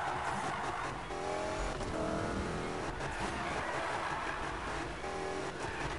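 1965 Ford Mustang GT in a Need for Speed racing game, engine roaring continuously while its tires screech through a drift, loud and dense throughout with no talking.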